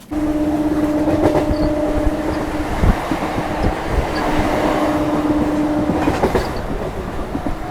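Local train pulling into Bhatar railway station on the Barddhaman–Katwa line, a steady loud rumble of wheels with clickety-clack over rail joints and a sustained horn-like tone, no speech.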